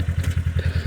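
A Polaris Xpedition side-by-side's engine while driving along, a close, steady low thrumming pulse with a quick regular beat and no talk.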